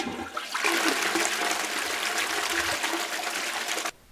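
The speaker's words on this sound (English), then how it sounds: "flushing the toilet." A toilet flushes in one continuous rushing surge of water that runs steadily for several seconds, then cuts off abruptly, close and clear with no talking.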